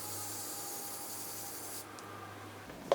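Setting spray mists onto a face, hissing steadily for a couple of seconds, then stops, followed by a soft rustle and a small tap.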